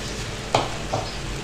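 Potatoes cut for peri peri fries frying in oil in a kadhai over medium flame, a short stretch of close bubbling sizzle with two brief scrape or splash accents.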